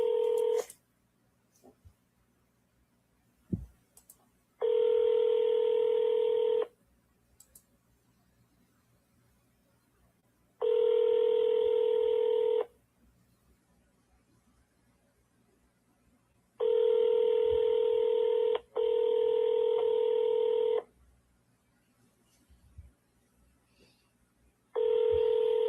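An outgoing telephone call sounds a repeating ringback tone, a steady electronic burst of about two seconds followed by a longer gap, heard several times over faint background noise.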